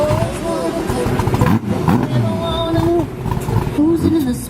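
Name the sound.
Lamborghini engine cold start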